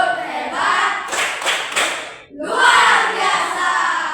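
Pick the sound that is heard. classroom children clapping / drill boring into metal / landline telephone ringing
classroom children clapping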